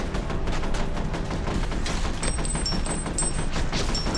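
Rapid gunfire from F.E.A.R.: Perseus Mandate, a dense continuous fusillade of loud close shots with bursts of automatic fire and occasional high electronic beeps, no voices.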